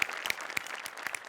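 Audience applause at a Marathi comedy stage show, a burst of brisk hand clapping with sharp individual claps standing out, moderately loud and continuous throughout.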